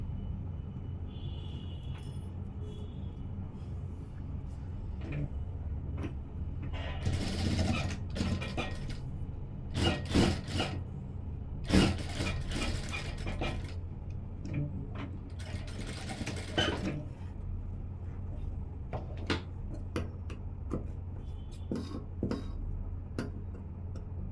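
A sewing machine stitches a side seam on a gown frock in short bursts of rapid mechanical ticking, separated by quieter pauses, with no voices.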